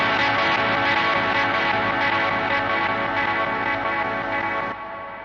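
Guitar played through an EarthQuaker Devices Avalanche Run reverse delay pedal placed early in a pedalboard chain, giving a dense, loud, continuous wash of sustained, swelling delayed tones that cuts off sharply near the end, with no talking.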